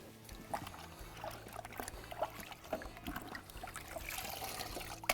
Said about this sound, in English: Now let's rinse all of our parts off in a bucket of warm soapy water.